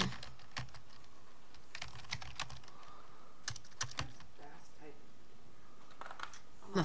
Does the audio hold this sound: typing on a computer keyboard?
yes